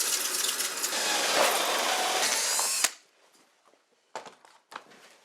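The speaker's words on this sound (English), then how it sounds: "I bore holes for the fixtures." A hole saw cuts through a PVC shower wall panel with a loud, continuous high whine and grinding for about three seconds, then stops abruptly; a few light clatters and taps follow in the quiet.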